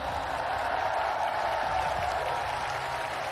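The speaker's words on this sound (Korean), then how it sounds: "박수 한번 부탁드립니다." Steady applause from a party convention audience after a primary candidate selection, a dense even patter of clapping that holds at a constant level throughout with no voices over it.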